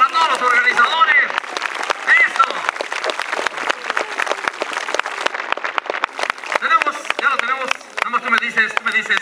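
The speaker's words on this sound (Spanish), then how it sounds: "el aplauso que se oiga bonito para todos los organizadores" Crowd applause for the organizers at an outdoor horseback parade during a fair in Colipa, busy uneven clapping mixed with a loud voice, whistle-like calls and music, swelling and dipping throughout.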